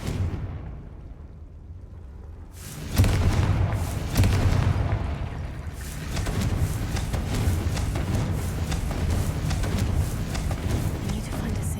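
A Confringo fire spell in Hogwarts Legacy sets off a booming explosion after a quieter opening, followed by a second blast and a sustained rumbling, crackling roar.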